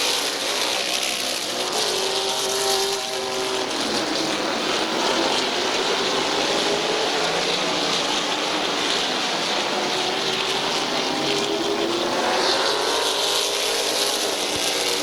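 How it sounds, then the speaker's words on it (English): Race cars at Midvale Speedway roar around the track, a continuous loud engine drone with rising and falling pitch as cars pass. "And the 169 of DeVore going to have the race lead"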